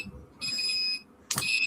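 Fire alarm control panel buzzer on a Morley IAS system sounding in two short bursts, a steady electronic tone, then a brief click and a louder, higher beep close by, with no speech.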